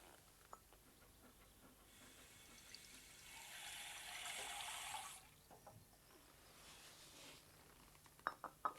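Water pours from a faucet into a dog's empty water bowl, a soft hissing stream lasting a few seconds, followed by faint clinks and small handling noises in a quiet room.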